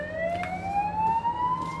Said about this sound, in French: les sirènes